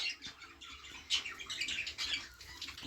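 Young budgie chick in a breeding cage giving soft, rapid chirps and little squawks, close by but faint, with no talking.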